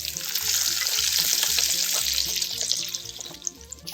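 Raw mango pieces frying in hot oil with mustard, cumin, fennel and fenugreek seeds, a loud steady sizzle with stirring clatter, close up and without talking.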